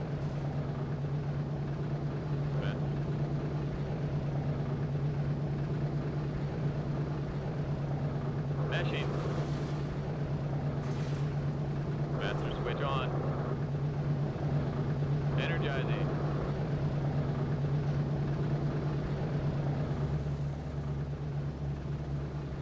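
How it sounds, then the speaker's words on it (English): Steady droning hum of B-17 bomber engines warming up and taxiing in a flight video game, constant and moderate, with someone talking over it and brief higher bursts. "As we fire up these engines, warm them up and start taxiing to runway before we take off and form up."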